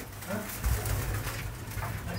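Rare flying pigeons cooing with a low, soft, continuous murmur, close by, over steady background noise, with no talk.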